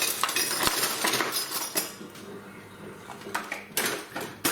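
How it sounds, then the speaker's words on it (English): Chicken wings going onto metal skewers for a tandoor produce scattered metallic clinks and rattles close by over a steady background hiss, with one sharp knock early on and no one speaking. "we're going to put them on our skewers"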